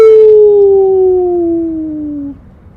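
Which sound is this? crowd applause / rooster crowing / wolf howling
wolf howling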